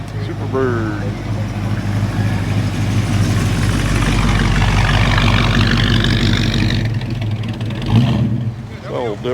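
A Plymouth Superbird wing car idles at an outdoor concours car show, a loud steady low rumble that swells briefly near the end, with crowd voices and talk over it.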